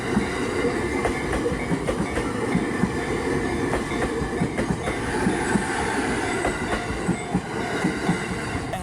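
A train in Japan rolls steadily past, a loud continuous rumble with rhythmic wheel clatter and faint metallic squeals running throughout.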